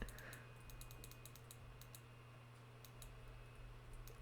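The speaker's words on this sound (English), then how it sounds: "you just gotta hear my aggressive clicking because I turned the audio off." Fast, aggressive clicking while playing a snowy survival game sounds as a quick, uneven run of faint, sharp clicks and taps over a low steady hum, close but quiet, with no talking.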